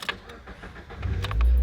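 A Mazda two-seat roadster's engine cranks and catches near the end, rising into a steady low idle after some faint clicks and key jingles.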